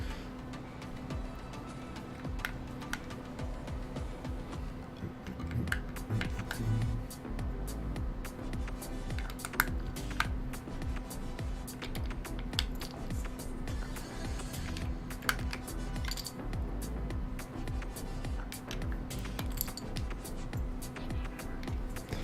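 A TEX DZ60 Carbon mechanical keyboard is assembled with keycaps, heard as scattered light plastic clicks and taps, irregular and close, over a faint steady hum.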